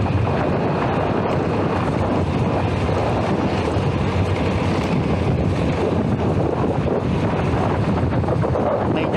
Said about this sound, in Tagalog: Medyo mahangin din siya.